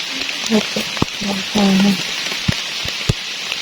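Rain falls steadily as a broad hiss in a forest during wild mushroom picking, with scattered close drops and a few faint voices underneath.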